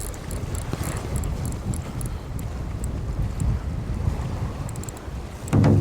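Gusty wind buffets the microphone on a fishing boat at sea, over a churning wash of waves against the hull, with a heavy thump at the very end.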